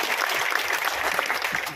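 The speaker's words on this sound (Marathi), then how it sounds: "जोरदार टाळ्या एकदा माझ्या मित्रासाठी वाजवा." An audience at a poetry recital applauds warmly, a dense continuous patter of many hands clapping at steady volume throughout, with no voices standing out.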